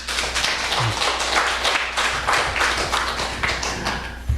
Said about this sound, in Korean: 오늘 우리 찬양대원 아멘 박수 한번 다시 해주세요